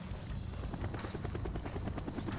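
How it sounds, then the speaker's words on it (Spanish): Attacking helicopters in the video game Call of Duty Black Ops whir with a fast, steady rotor chop that stays loud and close throughout, with no speech over it. "Los helicópteros nos están machacando."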